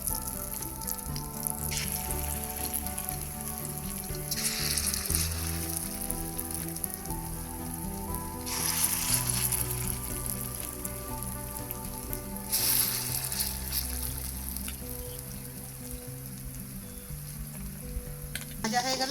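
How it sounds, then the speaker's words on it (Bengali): Chana dal batter sizzles steadily in hot oil while being fried in batches for motichoor laddu, a continuous close crackling hiss with no speech. "আমি আরো একটা ব্যাচে এটা ভেজে নেব। ভেজে নিচ্ছি ভালোভাবে।"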